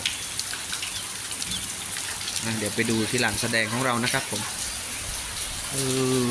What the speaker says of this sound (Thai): ฝนตกทั้งวันเลยคาดว่าจะฝนตกประมาณสองวัน